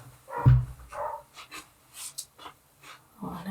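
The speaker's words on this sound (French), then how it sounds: "vous avez dû entendre le chien de ma voisine qui s'est mis à aboyer" A neighbour's dog gives one sharp, fairly close bark, followed by softer breathing and panting sounds and brief quiet gaps.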